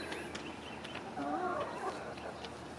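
Golden Comet laying hens cluck softly around a farm coop, a scatter of short murmuring clucks over a steady outdoor hiss, with one brighter burst in the middle.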